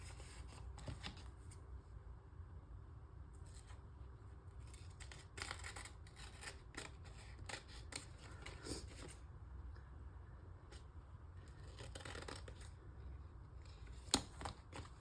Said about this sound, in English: I'm going to go ahead and cut it off.